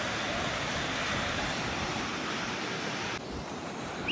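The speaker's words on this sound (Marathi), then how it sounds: "पावसाचं पाणी, धबधब्याचं पाणी." Rainwater and a monsoon waterfall rush in a continuous roar of flowing water, loud and steady, with a slight drop in intensity near the end and no talk.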